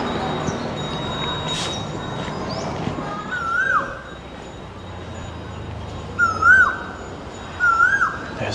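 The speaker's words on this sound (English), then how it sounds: "There's that bird again" Near the Chiang Mai moat, a bird gives a few short, clear whistled calls that rise and fall, heard in bursts against outdoor background noise with no talking.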